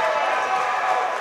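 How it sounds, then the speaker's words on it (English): Crowd at a 2015 MHSAA Class C district final high school volleyball match between Madison Trojans and Manchester, with a loud, continuous roar of cheering from a packed gym. "And the crowd is going nuts."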